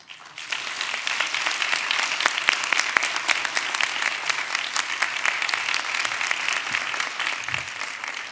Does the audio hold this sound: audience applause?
yes